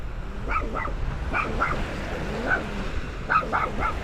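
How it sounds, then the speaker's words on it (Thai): A dog on a sandy beach at Bang Saray barks repeatedly at a can, in short yapping bursts spread through the stretch, fairly close against steady outdoor background noise. "อันนี้หมาเห่ากระป๋อง"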